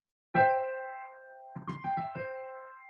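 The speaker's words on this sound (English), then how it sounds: "A major chord has a brighter quality like this." A major chord is struck on a piano, its notes ringing together brightly and sustaining, then a few more chord strikes follow in a quick uneven rhythm, close and clear with no talking.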